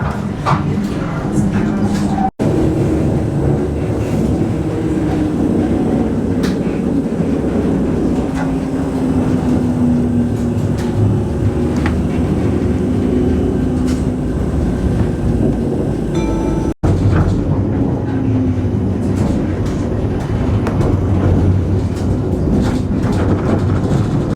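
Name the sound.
riding a tram in Amsterdam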